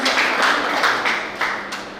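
A few scattered claps ring out in a hall at a state-level kickboxing championship ceremony, held at the Rotary Club Shri Madhopur Sunrise. Brief, close, uneven bursts of clapping with no voices over them.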